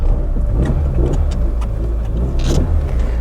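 An old Citroen Saxo with a flat tyre, its engine running loud and close while driving off, a steady mid-pitched drone with slight rises and a few rattles, no voices.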